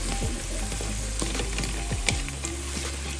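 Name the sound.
sautéing ingredients in a pan for manthi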